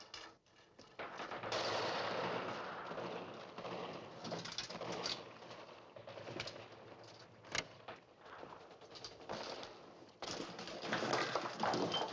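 Gunfire from soldiers shooting in a film battle scene, a dense continuous barrage of shots and bursts with sharp louder cracks standing out, dense and busy with no clear pauses.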